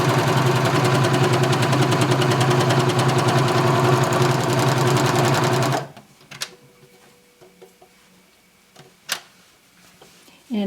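A serger stitches a T-shirt shoulder seam, running in a loud, rapid mechanical whir for about six seconds before stopping abruptly, followed by quiet handling clicks and rustles.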